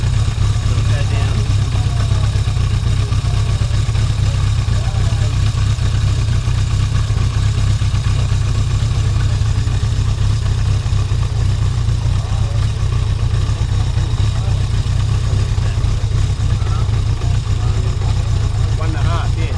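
A Yamaha XS1100 motorcycle engine runs steadily at idle during carburetor adjustment, a loud, continuous low rumble throughout with people talking over it.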